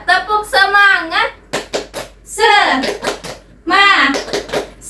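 Fourth-grade children in an Indonesian classroom perform a rhythmic spirit clap, sharp bursts of group clapping mixed with loud chanting voices, heard up close.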